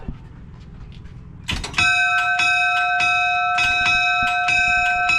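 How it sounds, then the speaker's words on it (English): A bell on a restored Peterbilt 359 truck rings out clearly, about seven to eight bright metallic strikes in quick succession with a lingering ring, after a quieter stretch of idling background noise. "You got to ring that bell before you leave."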